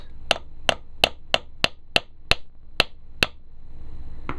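Nine sharp metallic taps in a steady rhythm on an electrolysis apparatus running on 20 volts DC, close and distinct, followed by a low hum and one last faint tap.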